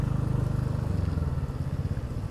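A scooter ridden on a rough, slippery mountain road out of Kathmandu on the way to North Annapurna Base Camp: steady close engine drone with a throbbing, uneven pulse throughout, no talking.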